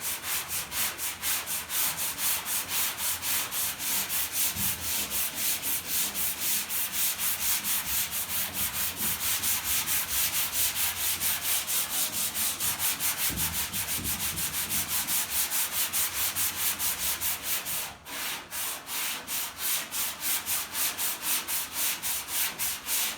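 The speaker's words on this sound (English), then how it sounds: "And you could tell how much you could sand off or not sand" Hand sanding of guide coat on the body panels of a Chevy pickup during bodywork, a steady continuous rubbing and scraping with a rhythmic back-and-forth pulse that keeps going for the whole stretch, close by, with no talk.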